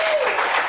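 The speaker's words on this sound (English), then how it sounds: "Round of applause for all our poetas tonight." A brief burst of audience applause at a poetry book launch, dense continuous clapping for under a second.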